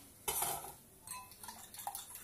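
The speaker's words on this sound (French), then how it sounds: "Là, je remue." Butter is stirred in a frying pan for pain perdu: a sharp metallic clink opens, then softer scraping taps and a faint sizzle follow, quiet and close without speech.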